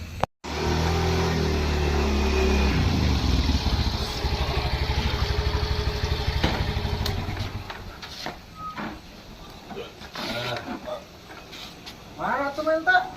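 A motorcycle engine used as an ojek taxi runs loudly with a steady low throb that fades into rough, intermittent revving, while people talk nearby.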